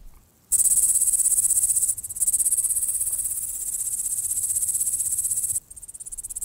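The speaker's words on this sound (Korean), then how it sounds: "태풍에 실려왔을 메뚜기." A grasshopper blown in by a typhoon onto Hallasan mountain chirps in a loud, continuous high trill, broken by short pauses around the second and near the end.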